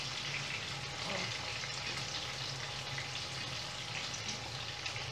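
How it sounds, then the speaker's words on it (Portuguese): Garlic and onion sautéing in a pan for a farofa, a steady, even sizzle of frying that continues unbroken at moderate loudness with no talking over it. "Vamos fazer um refogadinho aqui, ó."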